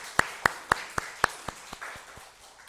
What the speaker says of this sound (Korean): 아름다운 목소리를 우리 주신 하나님 앞에 영광의 박수.